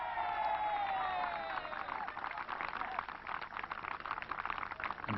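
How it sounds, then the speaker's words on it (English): An enthusiastic crowd applauds at the opening of a new golf course at Old Conna Golf Club in 1987, a steady wash of clapping and cheering with a faint whistle at the start. "An enthusiastic crowd supporting him"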